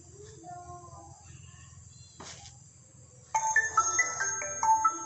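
A cheap touchscreen mobile phone plays a chirpy electronic ringtone, a string of bright repeated tones that starts partway through after a quiet stretch with a brief noise burst.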